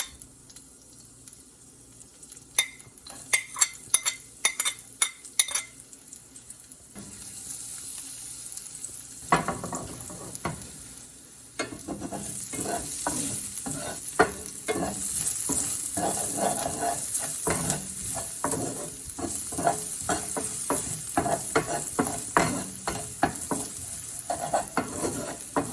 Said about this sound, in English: add in the sliced garlic, slit green chili, and chopped ginger to it and mix really well